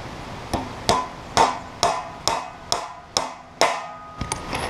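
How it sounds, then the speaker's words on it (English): Hammer strikes drive stout joist hanger nails into the track of a Woodland Mills HM122 sawmill, about nine sharp metallic blows at a steady rhythm, close and clear with short ringing decays. "What I'm doing is I'm nailing both ends down."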